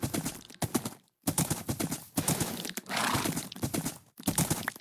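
Horse galloping in Minecraft: loud, steady clip-clop hoofbeats in quick bursts, broken by a few brief pauses, close and up front with no talking over them.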